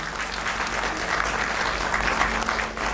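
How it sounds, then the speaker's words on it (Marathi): Audience at a Marathi book launch event claps steadily and loudly for about three seconds, a dense continuous round of applause with no speech over it. "टाळ्या वाजवूयात सगळेजण"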